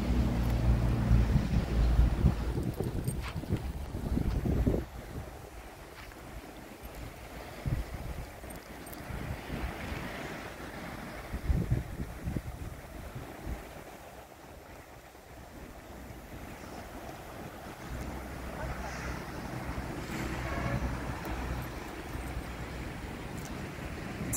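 A motorboat out at sea at sunset, its engine a low rumble mixed with wind buffeting the microphone and the wash of waves, loudest at the start and end and steady throughout.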